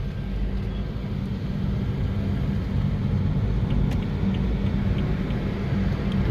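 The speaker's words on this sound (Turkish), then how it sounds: "Şimdi gaza geçelim." A car speeds up during a driving lesson, its engine a steady low rumble that holds loud and continuous throughout with no one talking.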